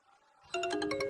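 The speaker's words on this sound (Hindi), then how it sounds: "ये किस गधे का फोन बज रहा है? इसे साइलेंट मोड पे रखो।" A mobile phone ringtone starts abruptly and plays a bright, repeating electronic melody loudly after a faint lead-in.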